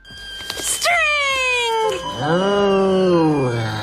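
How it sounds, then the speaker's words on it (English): A cartoon cat gives loud, exaggerated, wavering meows: a long cry rising and falling, then a second, lower, drawn-out yowl, with a few soft clatters first. "Also this cat."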